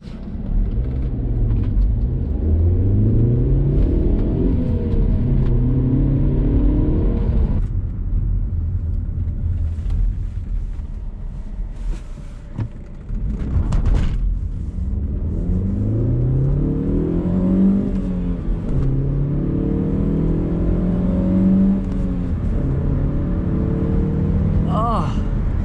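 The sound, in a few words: Alfa Romeo 147 Lusso engine revving while driving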